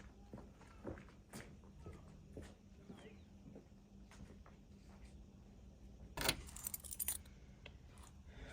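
Garage keys jangle and clink as they are fetched, with a brief burst of metallic rattling near the end, alongside footsteps and scattered quiet taps in a fairly hushed room.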